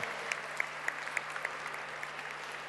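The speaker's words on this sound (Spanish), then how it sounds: "Un aplauso, hay más de 500 estudiantes en este salón de honor." Applause from a crowd of more than 500 students filling a hall of honour, faint and distant, a steady soft patter with a few sharper claps rising above it.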